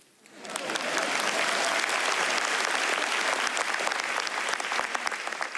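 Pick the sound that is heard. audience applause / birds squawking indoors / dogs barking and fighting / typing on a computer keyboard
audience applause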